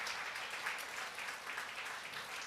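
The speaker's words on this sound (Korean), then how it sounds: "박수 한번 쳐주시길 바랍니다" Congregation applauding in a church after a sermon, a steady, fairly soft wash of clapping from many hands with no voices over it.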